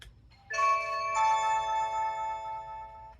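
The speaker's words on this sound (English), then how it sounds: "Here's max ringer volume." A Blink Video Doorbell chime at maximum ringer volume rings out clearly, two bright tones in succession that sustain and slowly fade, with a faint low hum underneath.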